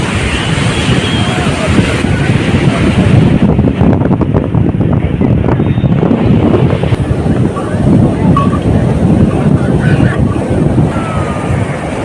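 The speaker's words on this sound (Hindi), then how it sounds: "और आप यहाँ देख सकते हैं कितना सामने यहाँ तक लहरें टच कर रहा है" Ocean surf rolls onto the beach at Puri on the Bay of Bengal, with strong wind buffeting the microphone in a continuous loud roar throughout.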